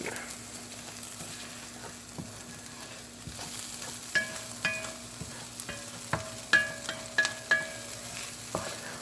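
Kielbasa and seasonings sauteing in a pan for a scrambled-egg breakfast; a low steady sizzle runs under repeated sharp clinks and scrapes of a utensil stirring against the pan, growing more frequent toward the end, without talk.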